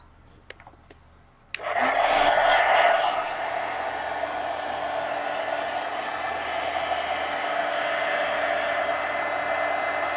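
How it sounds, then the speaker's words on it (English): A heat gun roars on steadily and loudly for several seconds, drying paint on an art card; a few faint clicks come before it starts. "I'm going to hit this with the heat gun"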